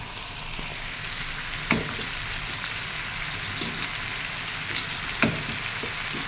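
Bitter gourd paste frying in a pan on a stove, a steady crackling sizzle with a few sharp pops and spatters, heard alone without talk.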